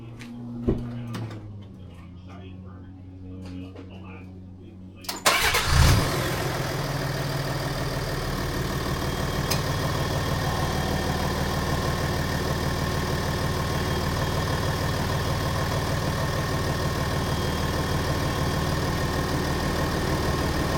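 A Ford Ranger Wildtrak engine cranks and fires after a few quiet seconds, then settles into a steady, close idle that continues to the end.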